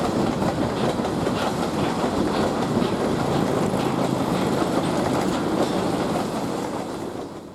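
A freight train hauled by MK50-3 locomotives rolls past close by at 25 miles an hour, with continuous wheel clatter and rumble on the rails, loud throughout and easing off slightly at the end.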